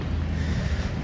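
A jangar ferry carrying cars and boats across the backwater at Munroe Island, Kollam, gives a steady, loud low rumble of engine and water, with heavy wind buffeting the microphone throughout and no voices.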